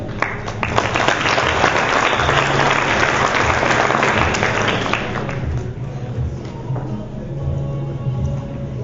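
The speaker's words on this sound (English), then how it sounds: "A round of applause." Loud, sustained applause from a crowd at an anniversary event, dense clapping that gradually thins out and fades toward the end.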